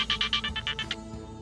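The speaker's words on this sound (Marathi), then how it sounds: "राजचा फोन" A mobile phone rings in brief, rapid electronic trills that pulse for about a second before stopping, fairly close and clear.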